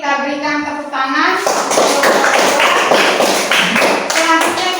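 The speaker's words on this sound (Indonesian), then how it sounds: "Oke, kita berikan tepuk tangan." A classroom of students claps at the end of a group presentation, a dense burst of many hands breaking out after a voice and lasting several seconds.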